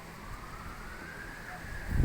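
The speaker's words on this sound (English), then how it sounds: "Yeah, the sirens." An emergency vehicle siren wails faintly in the distance on a windy afternoon, a thin steady tone under low background rumble.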